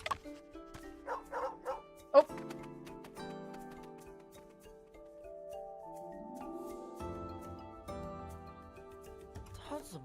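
A dog barks and yips in a few quick bursts near the start, then falls quiet under a sustained musical score, with a brief spoken exclamation.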